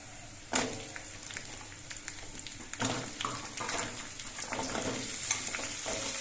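Mixed vegetables go into a pan over ginger paste and are stirred as they fry, producing a continuous close sizzle broken by a few louder scraping stirs and crackling bursts.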